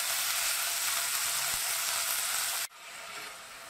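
Spring onion greens hit hot oil in a pan with a loud, steady broadband sizzle that abruptly drops to a quieter, softer frying hiss.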